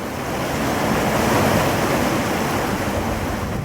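The Northwest Branch river flows steadily, a broad, constant rushing wash of water, with some wind noise over the microphone and no voices.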